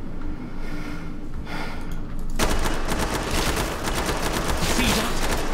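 Gunfire in the video game Killing Floor 2, a dense burst of rapid shots that starts abruptly and keeps going over a loud, busy game soundscape, with heavy breathing close to the microphone.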